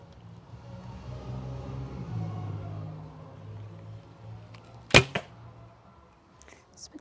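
An arrow is loosed from a Seljuk-style bow drawn at 37 pounds, giving one sharp, loud snap partway through, a brief rattle after it, and quieter background rumble before.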